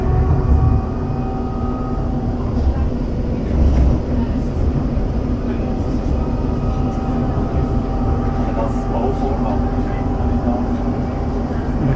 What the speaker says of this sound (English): Leaving the Matterhorn train station.